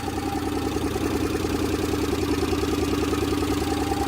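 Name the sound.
Subaru Justy 4WD engine idling, possible exhaust leak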